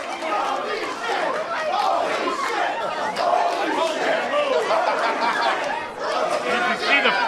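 Lively crowd of wrestling fans at a Boston street fight shouting, cheering and chattering together, a dense continuous roar of many voices.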